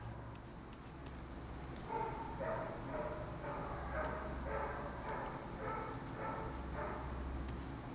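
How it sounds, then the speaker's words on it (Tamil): Dogs barking at night somewhere outside, a run of repeated barks and yips at a distance, faint over a steady low hum and background noise, with no voices. "நடுராத்திரி மாதிரி நாயெல்லாம் குலைச்சிட்டே இருக்கு."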